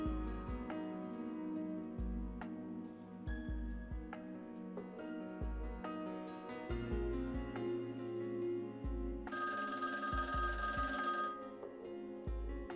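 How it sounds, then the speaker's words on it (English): A telephone rings repeatedly inside the Witch on the Holy Night video game, its bell-like rings recurring steadily over soft background music and swelling into a brighter, fuller burst near the end. "the silence was broken by the sound of the phone ringing"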